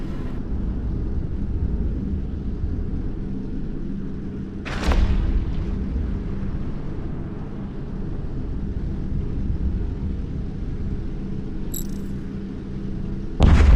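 Tier 10 battleships blow up in the space combat game EVE Echoes, two heavy booming blasts about nine seconds apart over a constant low engine rumble, with a faint chime near the end.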